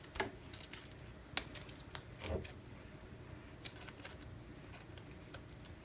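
Washi tape roughly torn by hand at a craft table, a quiet sequence of scattered crisp clicks and one louder sharp rip, close and unaccompanied by talk.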